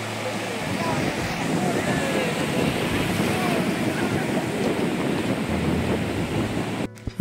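Ocean surf washing onto a beach at Mandarmani or Digha, a broad continuous rushing wash mixed with wind buffeting the microphone.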